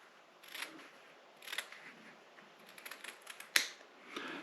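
Scissors snip excess fabric from quilt pieces in a quiet room, giving a handful of short, crisp cuts spaced irregularly, with one sharper click near the end.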